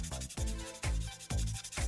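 Rhythmic sanding strokes of a 3000-grit Tamiya sanding sponge rubbing back and forth over a plastic Gundam model kit part, close up, about four even passes with a steady scratchy hiss.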